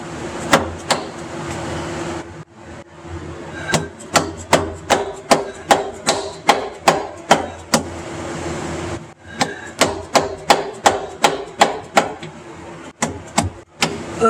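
A hammer strikes repeatedly to seat a slip yoke seal on a Jeep transfer case, sharp metallic blows in fast bursts with a short pause partway, loud and close with no talking.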